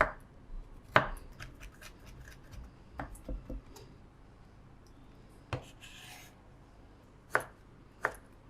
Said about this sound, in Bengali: সেই আদাটা কুচি করে দিব।